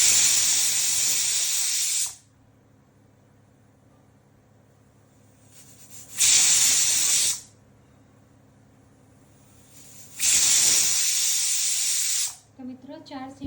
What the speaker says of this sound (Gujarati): હવે આને 3 થી 4 સીટી વગાડીને ગેસ બંધ કરી દઈશું।